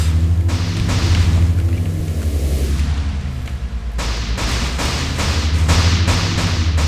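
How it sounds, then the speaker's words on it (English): A tank in the video game Thunder Brigade comes under enemy fire. Dull thuds and booming hits repeat over a constant low engine rumble, and a quick volley of impacts lands near the end. "oh dearie me, we're getting shot at"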